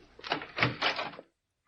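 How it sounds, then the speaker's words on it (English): A door is pushed shut indoors in an old broadcast drama, making a brief rattling thud with a short scrape, followed by quiet. "Close the door."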